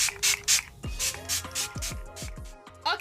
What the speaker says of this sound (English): also a setting spray, so I'm going to use it to set in my entire face